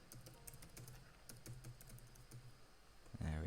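Someone types a password on a computer keyboard, a quiet run of quick, evenly spaced keystrokes that ends in a louder final tap, with no talking.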